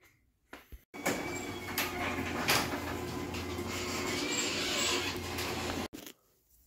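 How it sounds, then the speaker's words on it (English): A garage door rolls open in one steady, continuous rumbling run of about five seconds, starting and stopping abruptly, heard fairly close with a few knocks before it starts and no talking. "We'll open up the garage door and get the truck up high enough where we can get underneath it."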